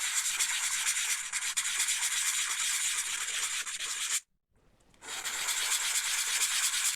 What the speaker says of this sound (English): I've got 4 balls with all the edges sanded